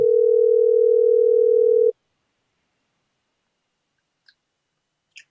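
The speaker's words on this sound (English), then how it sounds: "Phone is ringing." A phone call ringing through as a single steady, loud tone that lasts about two seconds, followed by silence and two faint clicks.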